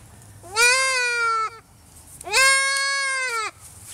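Young male goats bleat twice in loud, close calls, each lasting about a second with a pause between, with no talking.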